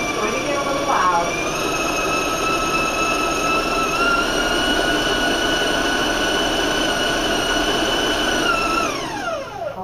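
An electric mixer at high speed beats butter dough for Italian rosette cookies, a loud, close, steady motor whine that winds down near the end.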